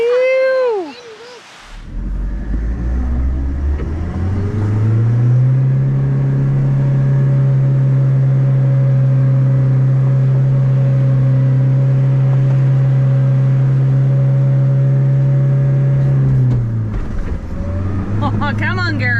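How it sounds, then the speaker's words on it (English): Pickup truck driving along a beach, its engine droning loud and steady at close range for a long stretch, with a rise in revs at the start and a wind-down near the end, and voices briefly heard at either end. "Finally using the truck for what it's meant to be for. Driving down the beach, having days like this."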